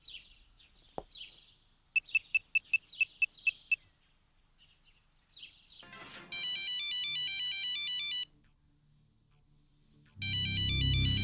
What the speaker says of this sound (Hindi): राकेश के नंबर से फोन आ रहा है